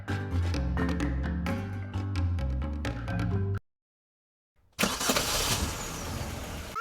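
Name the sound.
engine sound indoors in video game Trickcal Revive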